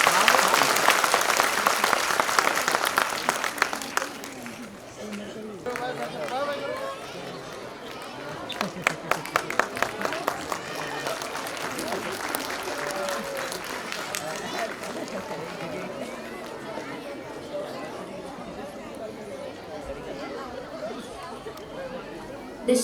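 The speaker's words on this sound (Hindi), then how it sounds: "तालियां और जोर से तालियां।" Audience applause and crowd chatter at a school annual day, loud clapping early that fades, then bursts of rapid clapping amid a hum of voices and babble from a large hall.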